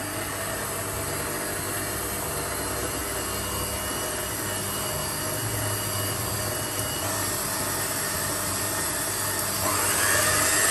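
A steady, loud whirring electric mixer whisks chocolate marble cake batter continuously for about ten seconds, its speed rising slightly near the end, with no talking.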